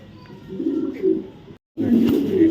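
Racing pigeons coo in low, rolling phrases close by, cut off by a brief moment of silence before the cooing resumes louder and continues steadily.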